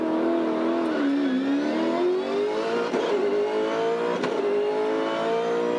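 V8 Supercars race cars at a race start, engines revving and climbing through second and third gear, loud and close with a rising, whining engine note and brief gear-change dips.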